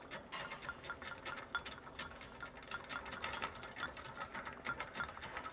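Rapid metallic ratchet clicking as a nut is wound up a threaded rod on a ram-type puller during Land Rover Discovery Sport engine work, a dense continuous run of close pawl ticks at steady moderate loudness with no talk.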